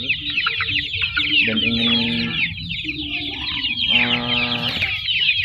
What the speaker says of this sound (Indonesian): Sekarang saya lagi di kandang ayam ini